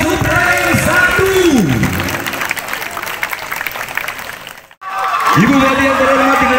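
Applause and crowd noise for the Subrayon 1 contingent at an outdoor school parade for a junior high arts festival in Lebak, Banten, sustained under an announcer's amplified voice, breaking off briefly before the talk resumes.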